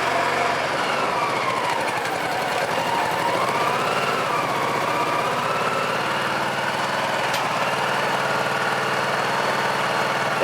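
A cold Honda PC-800 motorcycle engine idles steadily up close, its pitch slowly rising and falling as the idle hunts, with a continuous buzzing mechanical rattle throughout.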